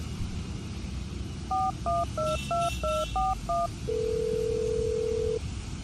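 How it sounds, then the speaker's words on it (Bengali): A phone number is keyed in as a quick run of short beeping tones at an irregular rhythm, then a longer steady call tone sounds alone. "আরও একবার জিজ্ঞাসা করার জন্য ফোন করলাম"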